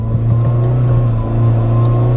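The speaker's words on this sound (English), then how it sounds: "How do I stop it revving? Throttle's stuck." A Citroen Saxo engine drones close by at a high, steady revving pitch with the throttle stuck, holding loud without easing off.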